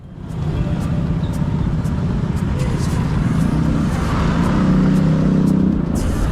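Steady engine drone and road rumble of a scooter ridden through Bali with a passenger aboard, close and continuous with a slight rise in engine pitch, wind noise over it.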